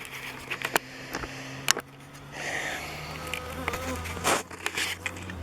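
Honeybees buzz around an opened, queenless hive, a close, fluctuating swarm drone with individual bees whizzing past the microphone in loud, brief swells.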